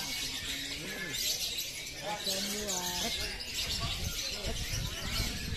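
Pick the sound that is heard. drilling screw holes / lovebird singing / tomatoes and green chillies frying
lovebird singing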